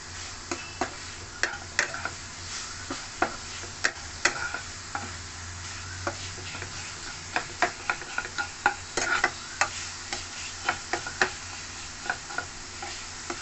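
Grated coconut filling with cracked green cardamom is stirred in a pan for stuffed idli, a spatula scraping in a steady run of close, sharp ticks over a faint low sizzle.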